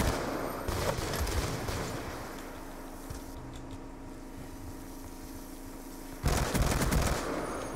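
Gunfire in Black Ops 2 multiplayer, bursts of rapid shots at the start and again near the end, separated by a steadier droning engine hum.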